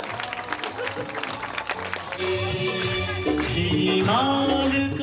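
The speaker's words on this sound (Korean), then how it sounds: "주민들의 환호가 끊이질 않았다." Villagers in a remote mountain village cheer and applaud a newly installed communal water tap, a dense crowd clapping that swells louder midway with overlapping shouts and music-like tones in the mix.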